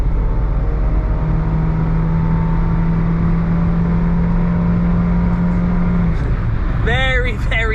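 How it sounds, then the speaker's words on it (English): Honda S-MX van accelerating hard to overtake, a sustained engine drone with a rising tone under road noise, followed near the end by a short burst of speech. "if I want to put my foot down and I need to overtake somebody, this is what happens."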